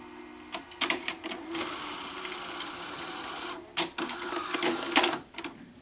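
Sony Betamax SL-HF1000 VCR eject mechanism clattering through a series of mechanical clicks and whirring, with sharp clunks near the end, close and moderately loud, with no talking.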